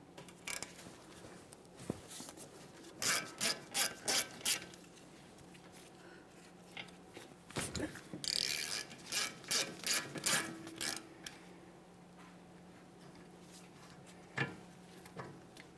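Ratchet fitted with a 17mm socket loosening the caliper slider bolts on a 1994-1997 Honda Accord, giving bursts of quick clicking pawl strokes separated by pauses, close and fairly loud with no talking.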